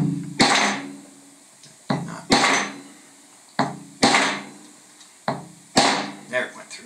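A hand hole punch is struck through super heavy coated dog collar webbing, giving sharp repeated hammer blows in an irregular rhythm, each with a short ringing decay, loud and close.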